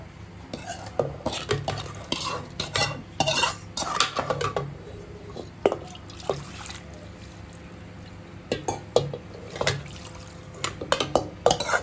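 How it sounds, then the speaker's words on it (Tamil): Sambar masala mixture being stirred inside a pressure cooker for Bangalore-style sambar, with repeated scraping clinks of a spoon against the metal pot in an irregular rhythm, close and moderately loud, with no voices. "இது எல்லாத்தையும் அந்த குக்கரில் ஊற்றி மிக்ஸ் பண்ணி வைக்கிறேன் ஃப்ரெண்ட்ஸ்"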